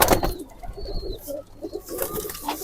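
Soft pigeon coos from birds being handled, blended with rustling, light wing flutters and handling noises close by; the birds are slippery, lightweight pigeons of a prized bloodline.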